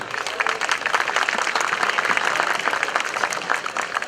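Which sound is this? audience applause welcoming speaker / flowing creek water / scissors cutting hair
audience applause welcoming speaker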